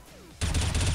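Rapid gunfire in the video game Counter-Strike: Global Offensive, a loud burst of shots that starts suddenly partway through and continues as a close, sustained volley, with no talking over it.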